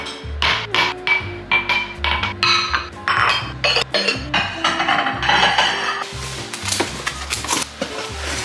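Plates from a new set and IKEA glasses clinking and clattering while being unpacked, a busy run of close knocks and ringing chinks with no talk.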